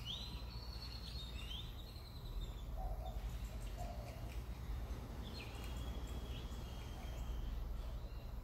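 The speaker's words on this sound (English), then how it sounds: "Did you hear that bird?" A bird sings outdoors in short, high chirping phrases that come and go, fairly faint, over a constant low hum and insect-like background noise.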